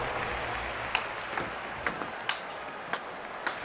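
A crowd at the London 2012 Olympics claps in a sustained, even wash of applause, marked by sharp pings or ticks that repeat every half second or so.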